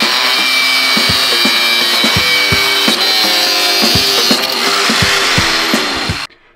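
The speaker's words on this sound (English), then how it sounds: "So we'll just trim these off and see what it looks like." Power tool cutting away metal tabs on a clutch pedal bracket in a Dentside Ford truck with a Cummins swap, a loud continuous grinding whine with repeated knocks and bumps, ending abruptly.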